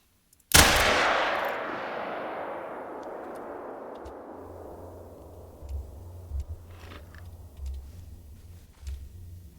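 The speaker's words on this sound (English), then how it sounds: "I'm going to try to take another shot at this one." A single pistol gunshot in theHunter: Call of the Wild, a sharp loud crack followed by a long decaying echo rolling across open terrain, then low ambient rumble and faint clicks.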